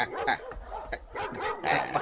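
Several dogs bark in short bursts, close and fairly loud, overlapping with one another.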